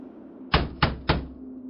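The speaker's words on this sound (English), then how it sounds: "broken by the pounding at the door" Three heavy knocks pound on a door in quick even succession, close and solid, against a quiet hum.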